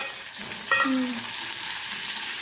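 Sliced onion frying in a pan for a capsicum besan curry gives a soft, steady sizzle with a brief stirring scrape partway through, close by and without talk.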